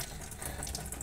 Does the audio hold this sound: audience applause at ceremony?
no